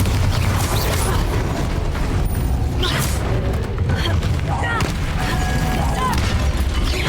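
Confringo, Incendio and Bombarda spell blasts in Hogwarts Legacy go off as loud, booming bursts and crackling impacts in quick succession, with a player's voice shouting over the barrage.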